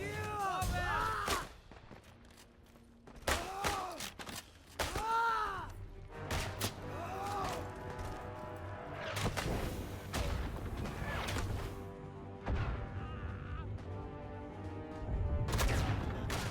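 Grenade explosions and gunfire in a World War I video game, with repeated booming blasts and crackling shots spread across the stretch, some heavy and close, others lighter, with faint game voices mixed in.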